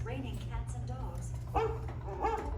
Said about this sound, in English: Don't worry, Rover. She didn't mean real dogs.